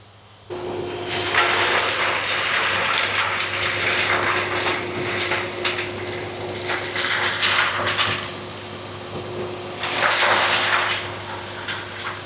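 A pump draws water out of the moat around Bok Tower in Florida, a steady close gushing and rushing roar with a constant mechanical hum that runs continuously, swelling slightly in places, with no talk over it.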